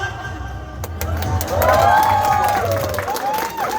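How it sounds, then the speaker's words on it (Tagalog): A crowd claps and cheers, with shouts and whoops rising over steady applause and low rumbling voices underneath. "Palakpak!"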